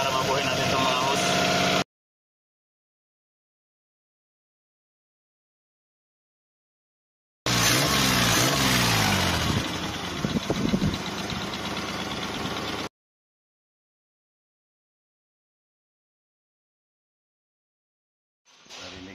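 A Suzuki Multicab F6A engine idles with its newly fitted original Mikuni carburetor, heard in two steady bursts of a few seconds each separated by silence, close and moderately loud, with a brief return at the end.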